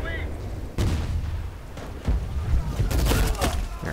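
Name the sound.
M16 with M203 gunfire in Medal of Honor video game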